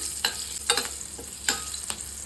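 Green chillies stir-fry in tempering oil, giving a soft steady sizzle broken by several distinct spatula scrapes and clicks against the pan, close up with no talking.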